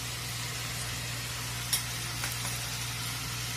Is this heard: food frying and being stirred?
yes